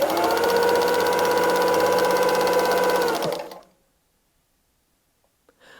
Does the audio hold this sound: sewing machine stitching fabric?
yes